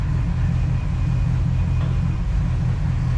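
A 1969 Plymouth Fury III engine runs steadily with the transmission in reverse, a constant low rumble close by with no talk.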